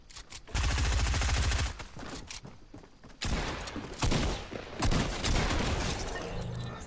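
Gunfire erupts in a video game, heavy shotgun blasts and sustained bursts of shooting rising and falling in loud waves with short dips between volleys.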